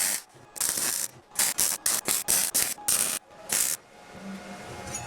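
Short bursts of arc welding on a steel fire grate for a wood gasifier retort, about ten broadband crackling spurts in irregular rhythm separated by brief pauses, loud and close with no talking.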